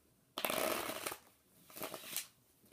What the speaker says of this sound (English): we can even give the cards a little shuffle